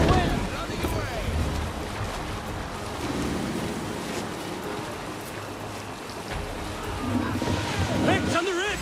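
Sailing ship at sea in Assassin's Creed Valhalla: a steady wash of waves and wind rushing around the hull across the whole stretch, with voices over it and the swell rising again near the end.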